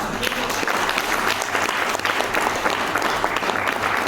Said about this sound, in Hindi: पहले एक जोरदार ताली बताइए।